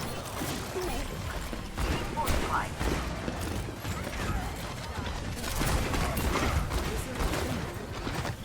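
Rapid video game gunfire with repeated sharp shots and bursts in a competitive shooter match, dense and steady throughout, with talk over it.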